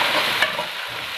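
Tomatoes hit a hot pan for village-style white lobia masala and sizzle in a dense, steady hiss while being stirred, close and fairly loud, with one brief clink partway through and no talking.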